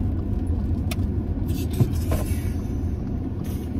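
A car driving, heard from inside the cabin: a steady, close low road-and-engine rumble runs throughout, with a few brief faint clicks and knocks on top.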